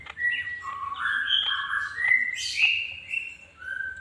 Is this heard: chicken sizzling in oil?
no